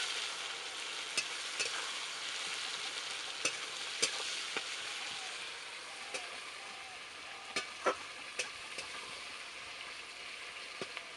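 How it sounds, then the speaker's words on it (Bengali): Dried red chilli, whole cumin and bay leaf tempered in hot oil after frying potatoes, giving a steady sizzle with scattered sharp crackles and pops throughout, no voices. "এখন ফোড়ন দিয়ে দেবো শুকনো লঙ্কা আর গোটা জিরে আর তেজপাতা।"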